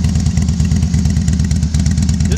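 A 2007 Harley-Davidson Softail Night Train (FXSTB) with a Screaming Eagle heavy breather intake and Reinhardt 2-in-1 exhaust idles loud and close, a steady deep lumpy V-twin rumble pulsing throughout with no voices.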